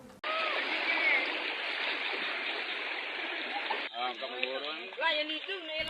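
Swollen river and tributaries overflowing into floodwater after heavy rain, a steady loud rushing flow for about four seconds, then continuing under a voice speaking close by.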